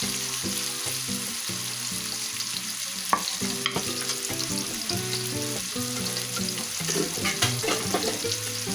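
Tomatoes fry in a pan with a steady sizzle, joined by occasional scrapes and clinks from stirring; it stays close and continuous, and no one speaks.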